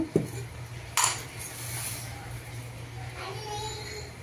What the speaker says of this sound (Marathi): चला तर आता कढई तापायला ठेवू.